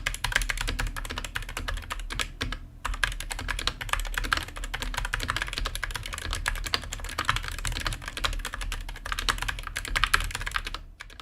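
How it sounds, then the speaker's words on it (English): Continuous fast typing on a Gamakay MK61 keyboard with optical switches, close and crisp, with rapid clicky keystrokes and a couple of brief pauses. "Now let's go for a typing test."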